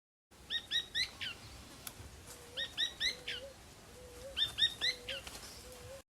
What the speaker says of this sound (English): the rufous-breasted spinetail, that is a bird that sounds like it's saying muchachito.